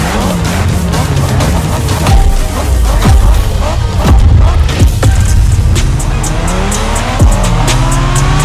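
A race car is driven hard in The Crew Motorfest video game, its engine roaring and rising through gear changes with tire squeals and skids, loud and continuous throughout with no talking.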